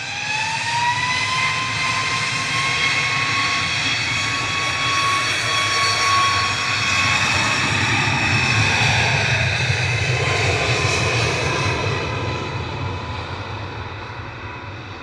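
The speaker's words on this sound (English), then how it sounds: "Departing in parallel was the Ryanair 5209 to Malta, IHP whizzed past the Etihad there on camera, Max 8." A Ryanair Boeing 737 MAX 8 takes off from Manchester Airport on a parallel departure, its jet engines roaring loud and steady throughout with a rising whine, then easing slightly as it climbs away.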